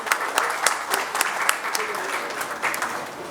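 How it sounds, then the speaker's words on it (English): An audience at an annual meet claps for dignitaries in a sustained burst of applause, dense and fairly near, with scattered louder individual claps standing out across the whole stretch. "please give a round of applause to our renowned dignitaries"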